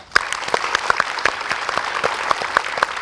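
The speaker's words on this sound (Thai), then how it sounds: "ผมขอเสียงปรบมือทุกท่านด้วยครับ" A crowd claps enthusiastically, a dense burst of applause that stays loud and steady throughout.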